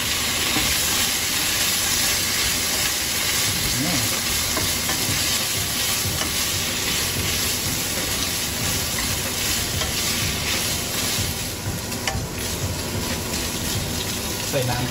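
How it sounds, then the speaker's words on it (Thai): Thai red curry paste with sugar, black peppercorns and fingerroot is stir-fried in a pan for a spicy salmon dish. A loud, dense sizzle runs continuously, close up, with a spatula scraping and stirring throughout. "ผัดพริกแกงให้เข้ากันเลย"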